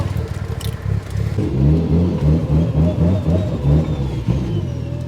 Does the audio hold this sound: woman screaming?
no